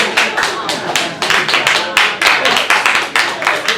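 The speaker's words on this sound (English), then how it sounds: "that's an applause line" Comedy club audience at a stand-up show in Village Underground claps in loose, choppy bursts, individual hand claps distinct and close, with a murmur of voices underneath.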